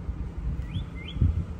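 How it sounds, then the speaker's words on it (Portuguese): Two short, thin bird chirps rise faintly above low street rumble and background noise on an empty street in a small Florida town. "olha o passarinho cantando."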